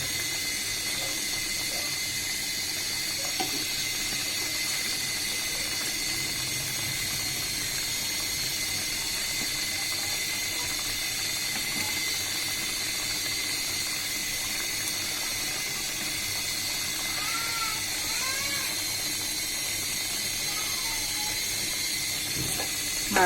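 Fish pieces frying in hot oil in a pan while a vegetable dish cooks, a steady broad sizzling hiss that holds evenly throughout with faint kitchen clinks.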